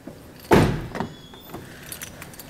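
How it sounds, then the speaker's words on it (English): A Toyota Highlander's car door is unlocked and opened: one sharp, loud latch clunk, then a softer click and faint handling noises in a quiet space. "Unlock the door."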